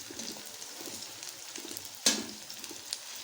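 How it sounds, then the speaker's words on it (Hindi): Onions sizzle in a frying pan as they brown for a village-style bhindi (okra) dish. A soft, steady crackle is broken by one sharp louder hiss midway, and the sound is close and continuous. "प्याज को डाल दिया ब्राउन करने के लिए"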